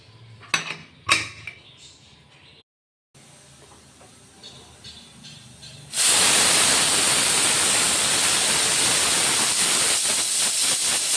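A pressure cooker full of palak (spinach) rice vents steam. A few utensil clinks and knocks come first, then a sudden loud, continuous steam hiss takes over and holds steady to the end.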